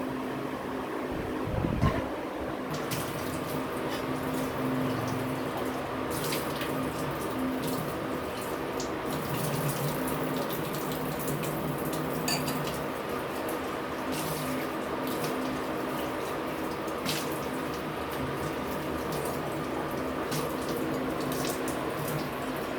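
Water runs steadily from a kitchen tap at good pressure, a constant close splash and hiss with occasional clinks, no speech.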